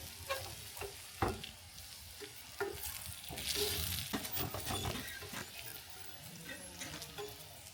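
Noodle chops fry in a pan while being flipped one by one, a quiet, close sizzle broken by scattered clinks and knocks of the turner against the pan, with no talk.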